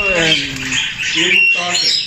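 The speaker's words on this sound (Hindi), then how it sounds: "तोता है खुला हुआ है" A parrot in a home bird setup gives harsh, loud squawks in quick bursts, close by, mixed with talking voices.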